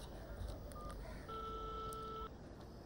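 A telephone is dialed in a scene from a Hindi comedy film, a short run of distinct keypad beeps, some brief and one held longer, over low background noise.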